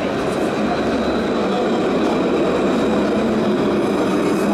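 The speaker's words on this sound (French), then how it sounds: "Ah, le tramway il part." A tram pulls away from a stop with a steady, loud rumble of wheels and motor that stays constant throughout.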